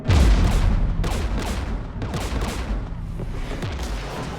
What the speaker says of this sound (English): The Geth installed anti-aircraft guns beside the jamming tower